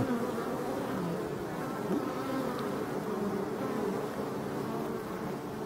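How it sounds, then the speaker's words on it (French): Steady, dense buzzing of many black honeybees close by at a forest hive, a continuous low hum with no pauses and no voices. "Les abeilles noires de la forêt."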